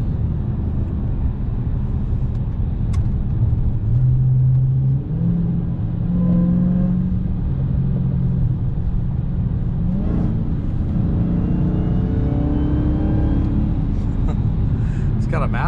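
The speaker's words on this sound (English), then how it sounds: "This Camaro's pulling up on me right now." Chevrolet Camaro pulling up alongside on the road, its engine rumbling and briefly revving under steady road and cabin noise, with someone talking over it.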